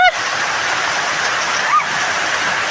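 Heavy rainwater rushes past in a steady, loud broadband wash that continues without a break, with one brief chirp-like call rising over it partway through.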